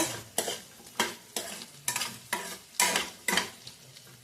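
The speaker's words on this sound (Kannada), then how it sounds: "ಇದು ಎಣ್ಣೆಯಲ್ಲಿ ಫ್ರೈ ಮಾಡ್ಕೊಂಡು ಆಮೇಲೆ ಬೇಗ ಬೇಯ್ತಾರೆ ಸ್ವಲ್ಪ ಕ್ರಿಸ್ಪಿಯಾಗಿರುತ್ತೆ" Potatoes frying in oil in a pan, stirred in a steady rhythm: about eight scraping, sizzling strokes in four seconds, close and fairly loud, with no talking.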